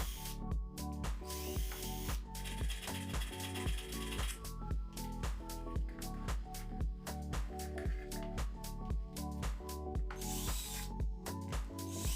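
A multimeter's plastic cover is drilled to make several holes, giving a steady, loud mechanical whirring and grinding with rapid ratcheting clicks that runs throughout without any voices.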